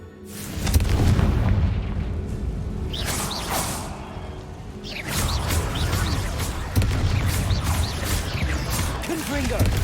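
Fiery Confringo spell explosions in a fantasy video game: whooshing casts followed by deep rumbling booms in several loud waves, mixed with other combat effects while a voice talks over the action.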